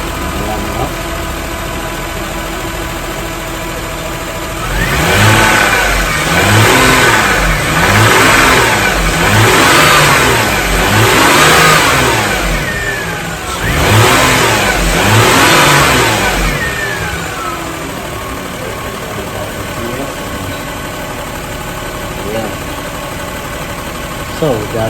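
A 2001 Lexus GS 300 engine, just fitted with a new timing belt and water pump, idles then revs up in repeated bursts, loud and close, with someone talking over it between revs.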